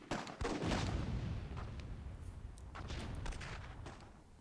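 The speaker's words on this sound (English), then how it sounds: "Big explosion there." A big explosion in the video game Myth II Soulblighter, during a World War II themed match: a sharp blast followed by a long rumbling roar, with scattered crackling bursts in the background.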